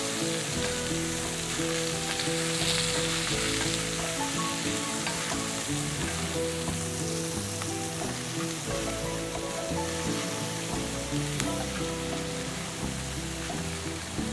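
Sausage fries in a pan with a steady, dense sizzle and crackle that stays loud and continuous throughout, with no voices.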